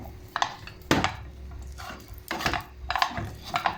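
A metal spoon scrapes and taps around the edges of a pan of homemade cold porcelain clay dough, several short knocking scrapes spaced irregularly at close range.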